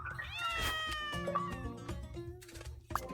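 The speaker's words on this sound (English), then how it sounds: "There's some very teeny cats." Cartoon cats in the Hidden Cats in Istanbul video game meow repeatedly over a steady background music track, with several drawn-out, wavering calls close and clear and a short sharp meow near the end.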